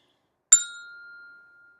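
A single stroke on orchestra bells gives one bright, clear ding with a sharp attack, then a pure tone that rings on and fades out slowly in otherwise silent surroundings.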